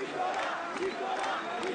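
Supporters of a political candidate roar with cheers and shouts at a campaign rally, a dense, steady wall of voices that keeps going without a break.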